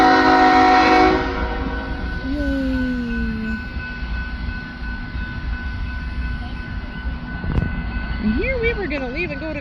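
Three-locomotive BNSF empty coal train rolling past, its loud horn blaring at the start over a steady rumble of wagons, with brief whistle-like tones later and voices faintly under the passing train.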